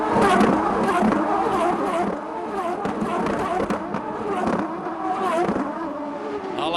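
2005 Champ Car race cars scream past on the front straightaway at the San Jose street race, engines loud and continuous as several cars pass in quick succession, with commentary faintly underneath.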